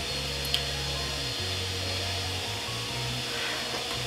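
Vacuum cleaner running inside a house, a steady drone with low tonal hum that shifts pitch a few times, moderately loud and continuous with no talking.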